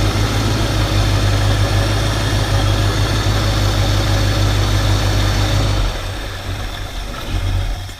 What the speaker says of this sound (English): it's not quite warmed up yet, so that's it idling, or was idling